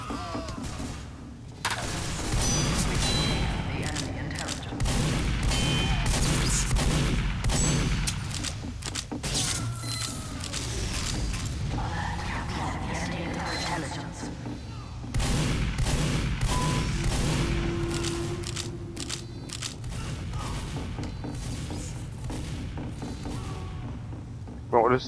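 Gunfire in the video game Landfall, with dense bursts of machine-gun fire and thudding impacts that run almost the whole time while people talk over the shooting.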